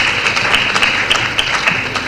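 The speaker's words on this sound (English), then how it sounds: "So please applaud yourselves again." An audience at the Inaugural Global Midwifery Conference in Nigeria, marking the International Day of Midwives 2016, applauds: a dense, steady wash of many hands clapping close by for about two seconds, with no voices over it.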